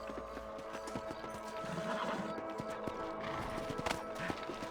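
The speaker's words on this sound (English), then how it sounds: "Let's get back on the horses and see what else is going on." Horses gallop in a Red Dead Redemption western setting, hooves clip-clopping in a quick steady rhythm close by, with a brief whinny and no talk.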